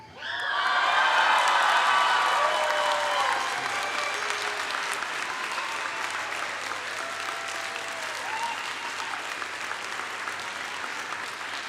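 An audience applauds at the Edmonds College 2025 commencement ceremony, sustained clapping that swells quickly and stays dense for several seconds before easing slightly, with a few scattered whoops.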